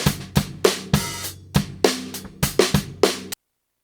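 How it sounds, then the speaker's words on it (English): A drum kit picked up by one microphone plays a steady groove of sharp hits, kick and snare strokes with ringing cymbal wash, about a dozen strikes close and loud, then stops abruptly. "at the moment I have a single mic recording of my drum kit that sounds like this"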